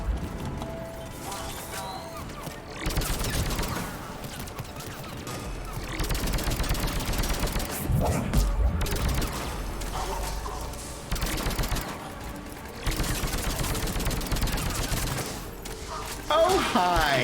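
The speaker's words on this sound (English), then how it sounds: "The fully automatic sniper rifle is my friend." Fully automatic sniper rifle from the Mass Effect 3 Legendary Edition video game firing in long loud bursts of rapid heavy shots, separated by short pauses, with scattered game effects between volleys.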